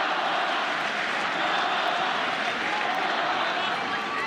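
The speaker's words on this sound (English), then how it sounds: "Now listen to that crowd." The tennis crowd at the French Open, during a Nadal versus Djokovic match, keeps up a loud, unbroken roar of cheering and applause throughout.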